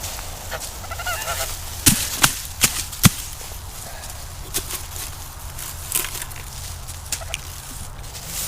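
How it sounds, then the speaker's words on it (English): Chickens cluck and squawk in the background amid outdoor noise, with several sharp clicks and taps scattered throughout. "you're scaring all the chickens away"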